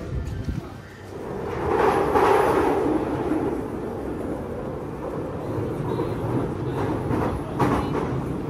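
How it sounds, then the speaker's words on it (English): A train rumbles past on a London street, a broad sustained roar lasting several seconds at moderate distance, with faint voices nearby. "The train just went that way."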